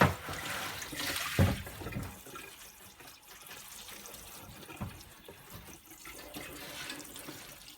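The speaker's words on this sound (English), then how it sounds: "just give it a rinse down to soften up all that dust and lint" Tap water runs steadily over an AEG tumble dryer condenser held in a sink, rinsing dust and lint, with a louder splashing burst early on and softer flow after.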